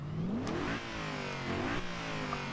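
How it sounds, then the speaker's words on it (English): A 2011 Mercedes-Benz SLS AMG's engine revs in Forza Horizon 2, rising and falling in pitch twice as the throttle is blipped, heard steadily and fairly loud from the cockpit with no talk. "I just love the sound of the cockpit though when you rev the engine."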